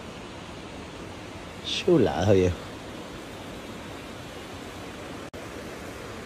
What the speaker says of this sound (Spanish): como se escucha el mar, las palmas, los ríos.